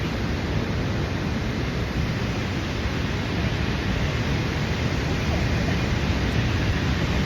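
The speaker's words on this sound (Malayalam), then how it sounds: "ഇതാണ് വെള്ളച്ചാട്ടം." A waterfall roars as a dense, steady broadband rush of falling water, loud and close, with no breaks or other sounds standing out.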